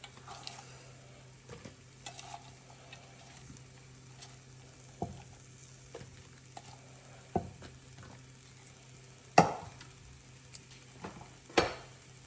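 Egg frying in a pan as chopped onions are added, for mutton fried rice: a faint, steady low sizzle broken by a few sharp clinks and scrapes of a utensil against the pan.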